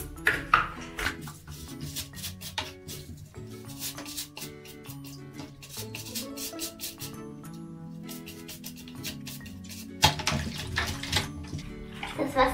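Cleaning supplies from a cleaning caddy are washed under running water in a bathroom sink, with a continuous splashing stream, clinks and knocks of plastic items throughout, and louder splashes near the end.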